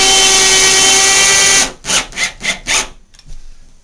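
Four short, rhythmic bursts of a handheld power driver snugging towel bar mounting screws in a bathroom follow a sustained whirring run, then a faint scrape at the end.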